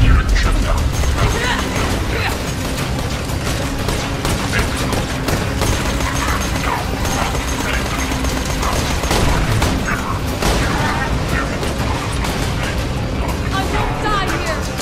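A turret firing in the video game Borderlands 2 fills a dense, continuous wash of rapid shots, mechanical clatter and booming effects that stays steadily loud and busy throughout.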